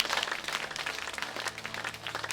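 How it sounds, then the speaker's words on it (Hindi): Rapid clapping during a group exercise class as people slap both shoulders, a dense, uneven patter of many hands continuing without pause at moderate volume. "दोनों कंधे को ताली बजाओ।"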